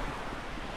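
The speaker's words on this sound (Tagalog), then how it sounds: "Yung dagat. Ay, ang dagat." Sea waves wash in a continuous, broadband rush with wind noise mixed in, filling the short moment without any distinct breaks.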